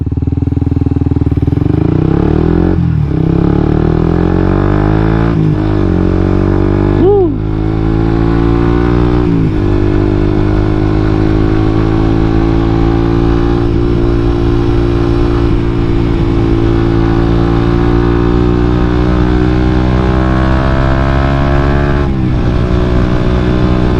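A Suzuki GSX motorcycle fitted with R&G-style mirror blanking and an MHR undertail, fender removed, pulls away along a hot roadside. Its engine drones loud and close throughout, with the pitch rising and dipping as the throttle changes.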